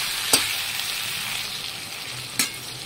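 Water is added to a spice paste frying in oil, and a steady hiss and sizzle carries on throughout, broken by two sharp clacks, one near the start and one near the end.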